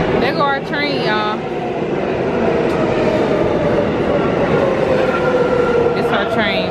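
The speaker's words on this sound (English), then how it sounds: "There go our train, y'all." A New York City subway train rushes into a station with a loud, steady rumble and rattle of cars, a rush of air, and brief squeals and a horn-like tone early on, while people talk nearby.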